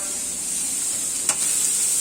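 Garlic sizzles in a hot frying pan with a constant bright hiss, broken by one short scrape as it is stirred around, close and clear with no talking.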